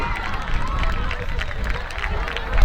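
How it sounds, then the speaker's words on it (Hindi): Loud applause from a crowd at a school sports day, honouring the winners; dense steady clapping fills the whole stretch with crowd murmur mixed in. "जोरदार ताली बजाएंगे इनके लिए"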